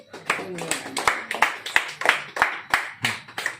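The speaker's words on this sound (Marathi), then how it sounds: "तर टाळ्या वाजवा सगळ्यांनी" A group of people clapping hands at a visit to an old-age home, a rapid rhythmic burst of claps close by, with some voices mixed in.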